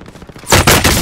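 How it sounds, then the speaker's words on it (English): Gunfire in a first-person shooter game, a loud sudden burst of rapid shots that breaks in after a quiet moment and keeps going to the end. "There's a lot of gunfire from there though"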